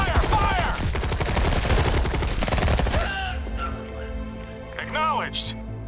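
Rapid automatic gunfire in Tempest Rising rattles loudly and continuously for about three seconds, then fades to sparse ambience with chirpy electronic effects, while shouted voices sound over the shooting.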